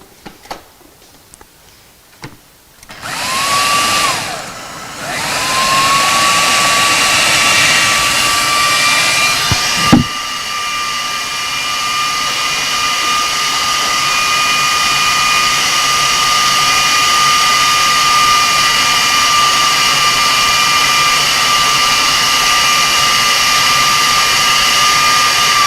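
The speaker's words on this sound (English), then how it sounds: "So after that, you blend all this up again" A loud, steady blender whir runs continuously after a few soft knocks, with a rising whine settling into a constant high hum.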